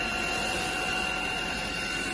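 An Ultenic U10 Pro cordless stick vacuum cleaner runs at full suction, a loud, constant whirring hiss with a steady high motor whine and no breaks.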